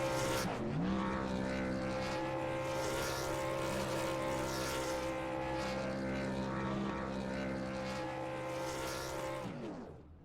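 A racing truck's engine roaring at high steady revs during a burnout on the front stretch of North Wilkesboro Speedway in a racing game, loud sustained droning tone that dips briefly early then holds before cutting off.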